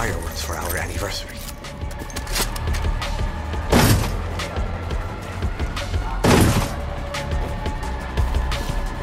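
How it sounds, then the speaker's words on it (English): Two loud, sharp explosive fireworks booms burst out a few seconds apart over a busy background of rumbling game noise in Far Cry 6. "Fireworks for our anniversary."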